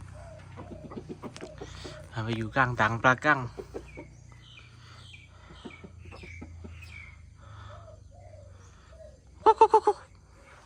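Chickens cluck at home in a short loud burst of rapid clucks, then sporadic softer calls and another sharp quick run of clucks near the end, while someone talks over part of it.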